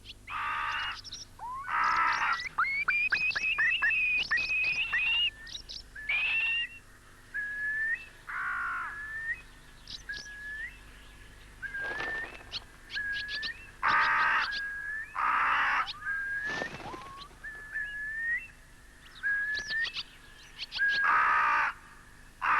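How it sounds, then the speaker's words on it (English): Curlews give rising whistled calls while mobbing crows in open country, interspersed with harsh, repeated cawing bursts from the crows; the calls alternate in irregular clusters over about twenty seconds. "The curlews mob the crows, harassment doubtless intended to persuade these unwelcome predators to seek other hunting grounds."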